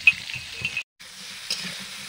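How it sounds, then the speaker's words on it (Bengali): Vegetables for a winter labra frying in a home kitchen pan, a steady soft sizzle with intermittent stirring scrapes, close by, with a brief pause partway through. "তত সময় সবজিটা ভাজা হবে।"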